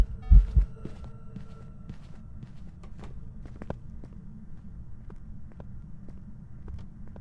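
Ghost footsteps during a hunt in the video game Phasmophobia, faint regular thuds repeating steadily over a low throbbing hum, with one louder knock near the start.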